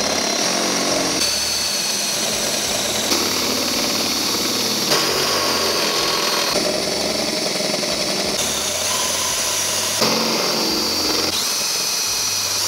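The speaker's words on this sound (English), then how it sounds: "you are drilling through two metal surfaces here" A power drill bores half-inch holes through a metal frame tube on a 2017 Chevrolet Corvette during a trailer hitch install, grinding steadily and loudly with brief changes in pitch as the bit cuts through both walls.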